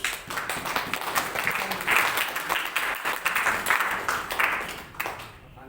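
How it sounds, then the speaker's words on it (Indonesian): Applause from an audience at an Indonesian talk or gathering, a dense wash of clapping that runs steadily for several seconds before thinning out near the end. "Tepuk tangan dulu untuk"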